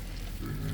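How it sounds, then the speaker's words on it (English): A farm pig gives a brief, low grunting oink, close and steady for under a second, with no talking over it. "And Papa Pig."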